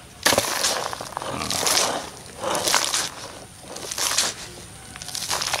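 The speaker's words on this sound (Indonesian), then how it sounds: "Kita tinggal isi saja medianya, keranjangnya dengan media yang sudah kita buat ini." Seedling growing medium being scooped into a basket, repeated gritty rustling and crunching scoops in uneven bursts, close up with no talking.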